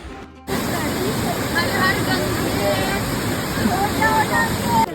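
A waterfall near Rishikesh gives a steady, close, full rushing roar that starts abruptly after a brief quieter moment, with faint voices under the water noise.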